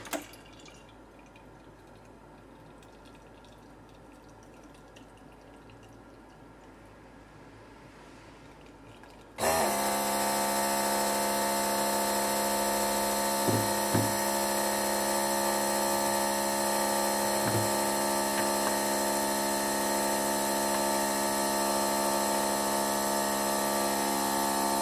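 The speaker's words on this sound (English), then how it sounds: "you can all judge me for my pint pouring skills" A pint of beer poured from a keg in a Perfect Draft home beer machine: near quiet at first, then a sudden loud steady mechanical hum with running liquid that lasts until the end.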